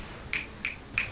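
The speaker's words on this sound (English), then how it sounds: "Snapping your fingers." Three crisp finger snaps, close and evenly spaced about a third of a second apart, alone over a faint background hiss.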